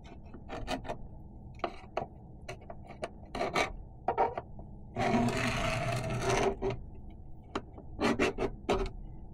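A tool scores a line into the epoxy coating of an aluminum dinghy, giving short scraping strokes in irregular bursts with one longer rasping pass in the middle, close and fairly quiet.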